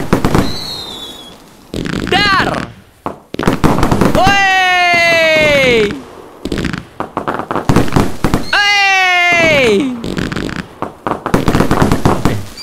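Whistling rockets rise in pitch with crackling bursts, two long whooshing launches between sharp pops, from the video game Fireworks Mania, under excited Indonesian speech throughout.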